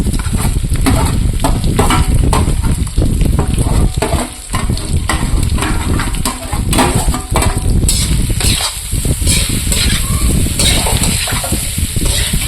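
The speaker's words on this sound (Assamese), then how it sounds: "পিঁয়াজখিনিত এতিয়া কণীখিনি ভাজি ল'ম" Loud, continuous sizzling of eggs frying with onions in a hot pan, with bursts of crackling and occasional stirring noises throughout.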